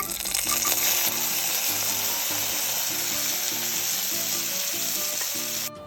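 Cashew nuts and raisins fry in hot oil in a pan, giving a loud, steady sizzle and crackle that runs on without a break and then stops abruptly at the end.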